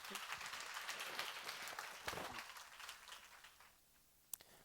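A church congregation breaks into applause during a Korean sermon, dense clapping from many hands that swells and then fades out, with one final sharp clap near the end.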